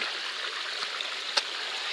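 A creek on the Appalachian Trail flows in a steady hiss of rushing water nearby, with a couple of small splashes breaking the constant stream.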